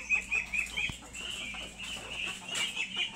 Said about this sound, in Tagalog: mukhang masigla naman yung mga manok niya